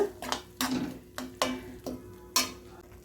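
A utensil scrapes and clinks around a pan of idli masala in a steady rhythm, a handful of distinct strokes over a soft background hiss.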